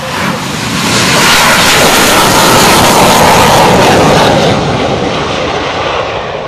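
A Navy F/A-18C Legacy Hornet tactical demo jet roars past at a Florida airshow, its loud broadband engine noise swelling to a sustained peak and then slowly easing off.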